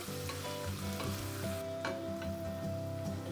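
Mushrooms cook slowly in butter in a pot, giving a steady, even sizzle with light stirring scrapes throughout.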